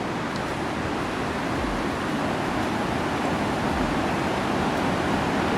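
A waterfall along the Valley of Flowers trek in the Himalayas rushes with a constant, loud broadband roar, steady and close throughout with no voices.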